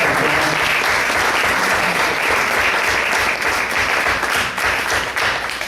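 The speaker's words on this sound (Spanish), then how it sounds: "Dese un aplauso por ser una persona." A church congregation at a Spanish-language service applauding, a loud, dense wash of clapping from many hands that holds steady throughout.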